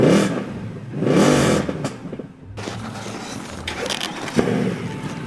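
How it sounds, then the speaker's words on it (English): A car engine revs loudly in repeated bursts, rising and falling, with rough mechanical noise and a sharp knock between surges. "You rev the engine properly?"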